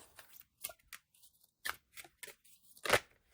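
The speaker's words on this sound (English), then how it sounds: "let's have a little shuffle and see if there's a card that pops out" Shuffling a deck of oracle cards by hand, with quiet separate riffles and snaps of card stock in short bursts and brief silences between them, close and soft.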